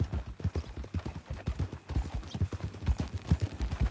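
Horse hooves clip-clop in steady, rhythmic pairs on a hard trail in the video game Red Dead Redemption 2, close and continuous, with no talk over them.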